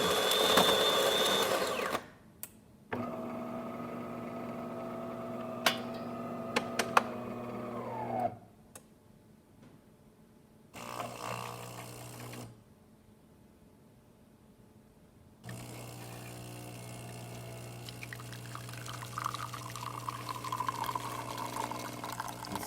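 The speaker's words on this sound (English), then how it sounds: "You see it pours a nice shot of espresso." A Delonghi Magnifica XS espresso machine, just repaired, hums and whirs as it pulls a shot of espresso, with a steady motor drone, pauses between stages and a trickling pour near the end.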